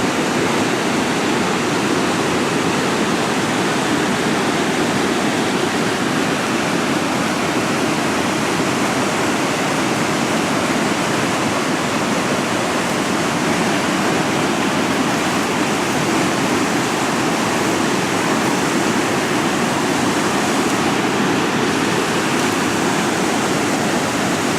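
A waterfall at Spring Camp Falls, in a river gorge, sends up a steady, dense roar of rushing water that stays loud and unbroken throughout, with no voices.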